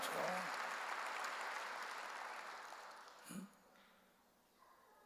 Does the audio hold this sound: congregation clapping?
yes